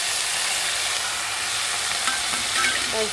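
Chopped ingredients added to hot oil with fried cumin hit the pan and sauté over low gas, giving a dense, loud, continuous sizzle with faint scraping as they are stirred.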